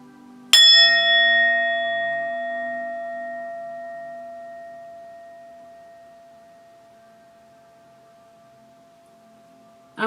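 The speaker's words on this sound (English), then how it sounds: "this singing bell is so healing for our cells" A singing bell is struck once, ringing out loud and clear, then its pure sustained tone slowly fades over about nine seconds, with a faint second strike at the very end.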